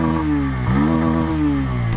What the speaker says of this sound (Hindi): अंडर बेली एग्जॉस्ट है, एग्जॉस्ट के साउंड में आपको बेस भी मिलता है,